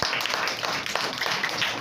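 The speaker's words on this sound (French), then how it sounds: "applaudissez vous-même" Children in a classroom clap for themselves, a brief burst of quick, scattered hand claps lasting under two seconds.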